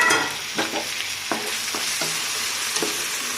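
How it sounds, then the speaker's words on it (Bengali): Green chillies and tomato frying in a pan for dum biryani, a steady close sizzle broken by several scraping strokes of a spoon stirring, fairly loud, no one speaking. "কাঁচা লঙ্কা টমেটো দিয়ে দিচ্ছি"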